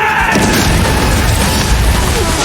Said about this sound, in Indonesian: Dia teriak Volcanic Drive, dan boom! Ledakan apinya gede banget sampai bikin kawah raksasa.